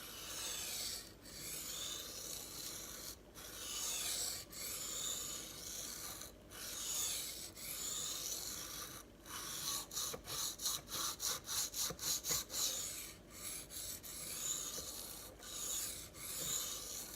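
A stainless Opinel knife is sharpened on a whetstone, with close, steady rasping strokes that rise and fall, then a quick run of shorter strokes, and no talking.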